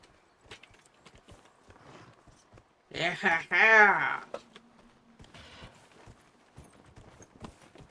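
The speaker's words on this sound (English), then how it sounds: "Oh wait, I can ride my horse here?" Horse hooves clip-clop in the video game Dragon Age: Inquisition, light rhythmic taps at moderate distance, with a person's excited exclamation in the middle.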